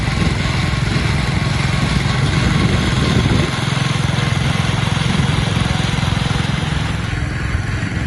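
An old Ford Model T Speedster engine runs steadily at an antique gas and steam engine show, a continuous loud chugging drone with a slight change in pitch partway through, near and without talk.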